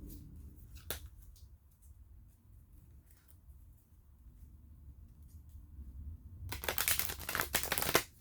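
A brief riffle of tarot or oracle cards early on, then a louder, rapid burst of shuffling near the end, close to the microphone.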